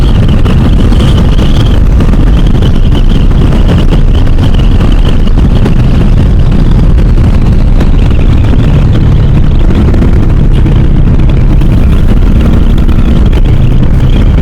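A Bajaj Dominar 400 motorcycle cruises along a highway, its engine droning continuously under heavy, loud wind rush that stays steady throughout.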